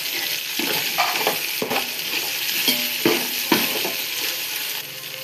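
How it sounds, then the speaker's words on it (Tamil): Biryani masala sautés in a pot with bay leaves and mint, a soft steady sizzle broken by a spoon scraping and clinking against the pot in uneven strokes, close and clear, with no talking. "நல்லா வதங்கிட்டு இப்போ பிரியாணி இலையும் புதினா இலையும் சேர்த்துக்கிறோம்"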